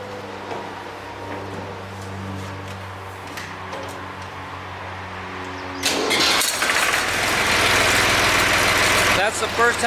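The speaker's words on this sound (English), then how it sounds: "we'll fire up a diesel tractor" A diesel tractor engine, a Zebra 3520, idles with a steady low chugging rumble, then a louder, harsher burst of noise takes over partway through.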